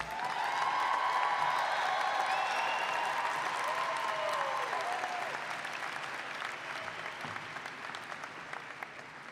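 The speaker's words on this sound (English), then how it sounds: "Let's give another round of applause to all of our graduates." A graduation hooding and diploma ceremony audience breaks into sustained applause for the graduates, dense clapping with a few cheers and voices mixed in, strongest at the start and gradually thinning over several seconds.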